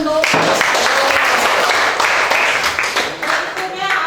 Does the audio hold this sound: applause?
yes